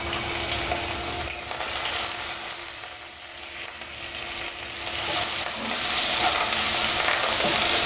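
Whole cumin seeds and chopped onion frying in hot oil, a loud dense sizzle and hiss that dips briefly, then swells again and grows stronger toward the end.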